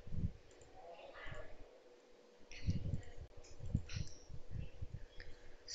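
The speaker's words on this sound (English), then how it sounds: "Click on this fill option." Computer mouse clicks in a drawing program, a few sharp taps scattered over low background rumble, close and fairly quiet.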